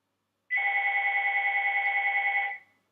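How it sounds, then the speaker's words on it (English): Two seconds of a nearby mobile phone ringing alone, a steady electronic trill pulsing at a quick even rate, then cutting off and fading briefly. "That is my phone, which I'm not going to look at"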